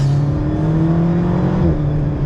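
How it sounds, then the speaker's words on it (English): A turbocharged car engine pulls hard with a steady rising drone, a brief turbo-lag dip and catch partway through, loud and close with no talking. "Bit of turbo lag and then"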